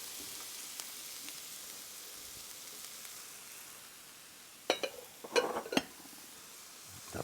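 Chicken teriyaki and cabbage stir-frying in a pan for a low-carb dish: a soft, steady sizzle runs throughout, with a short burst of utensil scrapes and clatter just past the midpoint.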